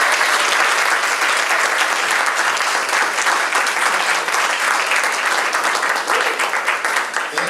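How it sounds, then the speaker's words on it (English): A large crowd at Heinz Field applauds emcee Larry Richert with loud, sustained clapping that holds steady and unbroken throughout. "it's important for us to give him a warm round of applause as well"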